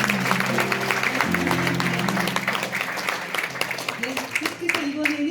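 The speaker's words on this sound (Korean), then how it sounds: "박수 크게 보내주시기" Audience applause at a 50th-anniversary commemorative ceremony of a presidential memorial foundation, honoring award plaque recipients; steady sustained clapping from a crowd for about five seconds, with a low musical drone underneath.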